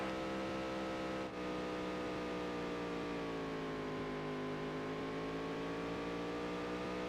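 Race car engines in the Dirt to Daytona video game whine at a high, sustained pitch, steady and loud with slowly shifting tones as the cars circle the track, broken by one brief click early on.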